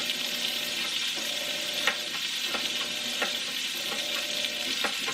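Cornbread batter sizzles and fries in a hot greased pan, a steady close crackling hiss with small pops scattered throughout and no voices.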